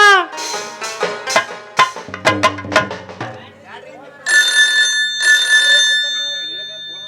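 An electronic phone ring sounds twice in sustained tonal bursts, following a stretch of bright, rhythmic music with sharp percussive hits, during a stage play.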